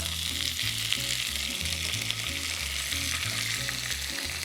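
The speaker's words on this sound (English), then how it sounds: "And then I'm gonna carefully put it in this hot pan." Strips of chopped leek sizzle steadily in a hot pan, a dense continuous frying hiss with a low rhythmic hum beneath, fairly close and with no one talking.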